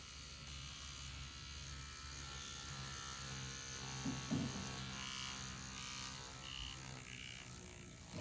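A Dragonhawk Extreme 2 tattoo machine runs with a steady, even electric buzz. It stays quiet and continuous throughout, with faint handling noises.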